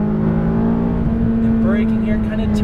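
A McLaren 570S on a racetrack pulls hard at full throttle, its engine a strong, steady drone heard from inside the car, with a voice talking over it.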